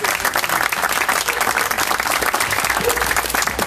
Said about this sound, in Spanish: Un aplauso, fuerte aplauso.